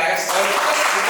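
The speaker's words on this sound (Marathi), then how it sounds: "सगळ्यांसाठी जोरदार टाळ्या" An audience claps vigorously at an Aagri community cultural gathering, a dense, loud, continuous patter of many hands filling the hall.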